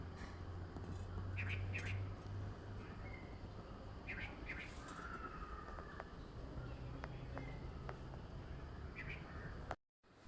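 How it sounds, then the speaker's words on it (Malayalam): Birds and crows calling in the morning outdoors, with scattered chirps and squawks over a steady low hum, some calls fairly near and others more distant, no talking. "എൻ്റെ ബാക്ക്ഗ്രൗണ്ടിൽ നല്ലപോലെ കിളിയും കാക്കയും ഒക്കെ കരയുന്ന സൗണ്ട് കേൾക്കാം"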